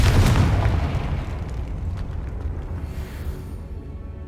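A Confringo fire spell detonates in the video game Hogwarts Legacy, a loud booming blast up front that rolls into a long, low rumbling decay fading over several seconds, with no voices.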